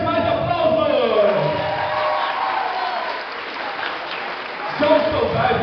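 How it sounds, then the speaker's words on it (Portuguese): An audience at a theatre performance claps, a broad wash of applause with some crowd noise running throughout, with a voice speaking over it. "mais aplausos!"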